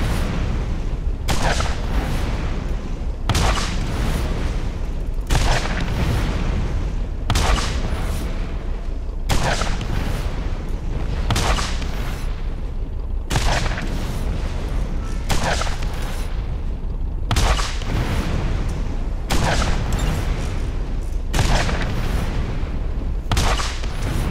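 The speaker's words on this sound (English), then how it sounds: "The missiles seem to be just going off into the distance now" Missiles fire and explode in the Borderlands shooter game, in the Secret Armory of General Knoxx, with loud booming blasts repeating at a steady rhythm over a constant rumbling background.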